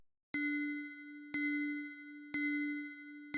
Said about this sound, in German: ertönt die Glocke jetzt auf 2 und 4